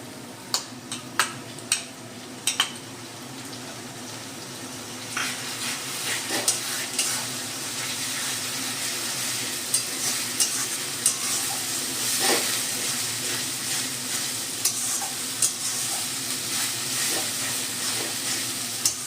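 Onion frying with ginger garlic paste for an egg curry sizzles loudly and steadily up close, while a spatula stirs and scrapes the pan with repeated sharp knocks, clustered at the start and scattered throughout.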